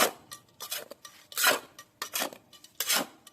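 Garden soil being mixed with organic fertilizer and old potting soil, a series of close, coarse scraping and rasping strokes in uneven bursts, with no voices.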